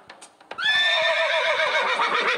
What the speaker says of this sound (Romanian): Este calul lui Dorel.